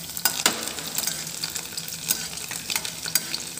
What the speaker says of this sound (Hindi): तेज़पत्ता फ्राई हो चुका हमारा।